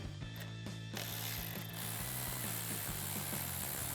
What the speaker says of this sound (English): We're going to take a 13mm socket and a ratchet. We're going to loosen